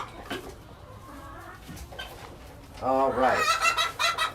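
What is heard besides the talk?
chickens clucking on a farm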